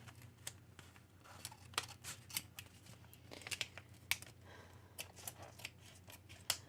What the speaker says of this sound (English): I'm going to leave it on its little sticky and cut it out.